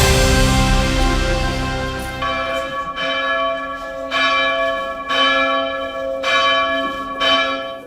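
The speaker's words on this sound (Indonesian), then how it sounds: "Tiga kali dalam sehari, lonceng yang sudah berusia ratusan tahun ini berbunyi dengan lantang" A centuries-old colonial-era church bell in Bandung rings loudly, its long resonant tolls repeating roughly every second with overlapping ringing overtones, heard alone without voices.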